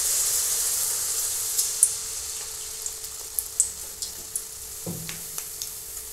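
Spoonful of jaggery pitha batter dropped into hot oil in a wok, frying with a steady soft sizzle and hiss, a few small pops and clinks, fairly quiet and close, no talking.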